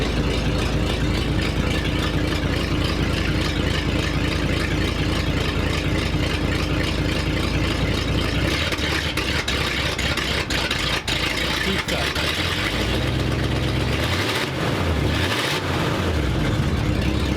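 An old car with no choke idles to warm up at a fall swap meet, its engine a loud, steady rumble that holds throughout, with a few uneven shifts in pitch near the end.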